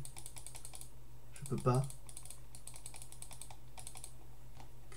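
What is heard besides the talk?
typing on computer keyboard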